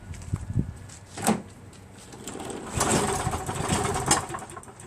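A hard-starting Craftsman 7HP self-propelled lawn mower engine with its timing off sputters and pops in irregular bursts, rising into a rough, uneven run partway through.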